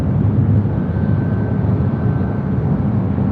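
A Southwest Airlines Boeing 737-700 jet arriving at LAX from Sacramento, heard as a steady, loud, broadband engine roar with a faint high whine, continuous throughout with no talk.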